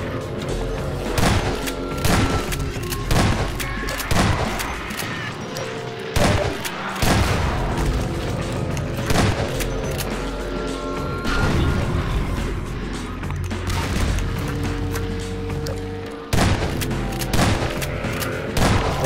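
Grenade rifle fire against zombies in Transmission Element 120, a video game: repeated loud booming blasts and crashes with thuds, spread in irregular bursts throughout, with a voice talking over parts of the action.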